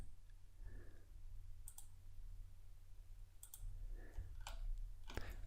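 Computer mouse clicks in a 3D electrical panel design program: a few sparse, faint, sharp clicks spaced seconds apart over a low steady hum, with no talking.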